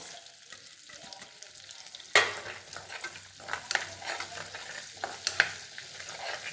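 Cumin seeds sizzling and crackling in hot oil, with a sharp burst of frying partway through and scattered pops over a steady hiss.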